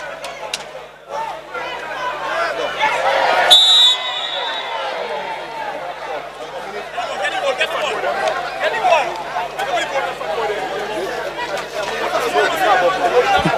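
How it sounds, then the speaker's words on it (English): A crowd at a Saint Lucia semi-professional football league match shouts and chants together, calling toward the official; a loud, sustained mass of voices with a sharp whistle-like burst near the start, continuing as steady roaring babble throughout. "The crowd making that call for the official."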